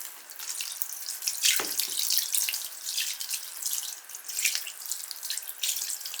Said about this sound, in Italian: Verso l'acqua,